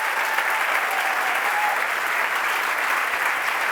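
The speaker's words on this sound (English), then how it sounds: "A big round of applause for our jury" Continuous applause for the jury fills the hall at a Reeperbahn Festival award show, even and sustained throughout, with a faint tone in the first half.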